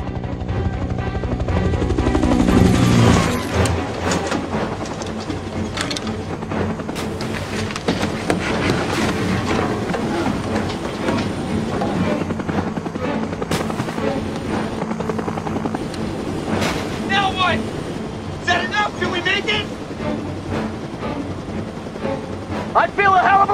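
Helicopter in flight in a scene from the TV series Lost, a loud continuous rotor and engine roar throughout, with people shouting over it.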